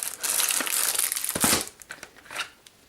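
A plastic bag crinkles loudly as a folding Bluetooth keyboard is unpacked from its box, with dense rustling bursts that thin into a few softer crackles by the end.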